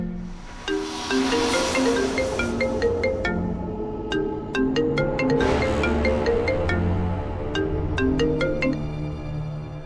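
A melodic ringtone plays on and on, a repeating electronic tune of bright notes with no one picking up.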